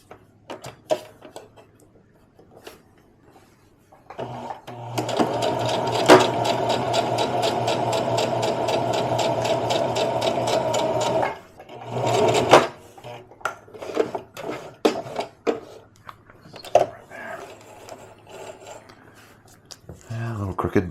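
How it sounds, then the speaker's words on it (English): A sewing machine runs a practice stitch through fabric in one steady mechanical whir lasting about six seconds, followed by shorter bursts, clicks and handling noises. "it's been a while since I've tried sewing, so I'm going to do a little practice stitch"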